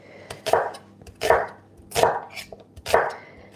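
Knife chopping onions on a board in a restaurant kitchen while making homemade seasonal soup from leftover ingredients: four crisp, evenly spaced strikes, close and clear, with no talk.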